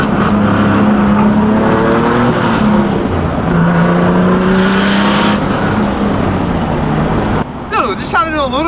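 A Nissan 370Z engine pulls hard in second gear, a loud steady rising drone with a brief shift-like change near the end, while someone talks over it.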